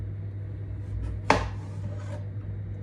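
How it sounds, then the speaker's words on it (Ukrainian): A knife cuts a zucchini into slices for pasta, making a single crisp, close chop on a board over a steady low hum. "Так як це паста із кабачині, нам треба нарізати полосочки, такі типу як вірмішель."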